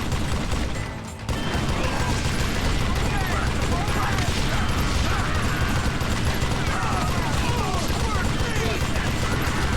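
Gatling gun blazing in the Western shooter Call of Juarez Gunslinger, a dense, unbroken rattle of rapid shots with mechanical clatter that runs loud and near for nearly ten seconds after a brief pause.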